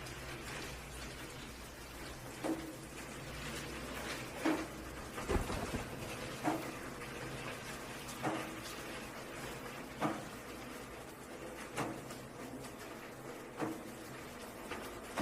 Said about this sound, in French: Ça pourrait être la pluie.